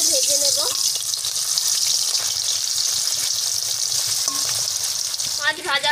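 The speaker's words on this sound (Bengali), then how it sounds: "একটা করে মাছ দিয়ে ভেজে নেব" Rui fish pieces fry in hot oil in a wok, giving a loud, steady, crackling sizzle throughout, with a brief voice at the start and end.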